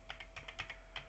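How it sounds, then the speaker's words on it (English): Quick run of keystrokes on a computer keyboard used with an Amiga, about ten crisp clicks in an uneven rhythm, close and quiet with nothing else heard. "I'm typing in Polish."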